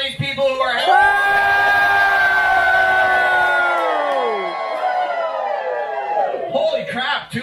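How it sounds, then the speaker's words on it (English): Roughly 200 people at a bingo night during an RV gathering erupt in sustained loud cheering and whooping, a dense wall of voices lasting several seconds before tapering off. "200 people can make a lot of noise"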